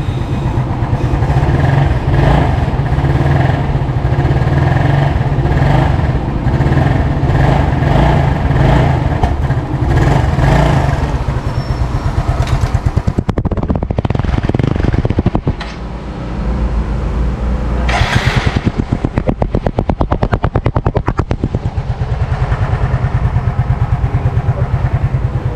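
A Yamaha Mio Sporty scooter engine starts and runs steadily and loudly up close, its busy mechanical drone holding for a long stretch before the tone shifts and a brief surge lifts the sound near the end.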